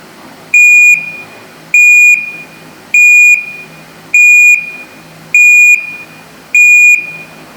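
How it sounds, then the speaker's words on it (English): Six evenly spaced electronic beeps from a Panasonic fully automatic washing machine's cycle-end alarm, each about a second long, shrill and steady with short pauses between, ringing out loud over a quiet room. "Let's just wait for the alarm to go off before opening the lid."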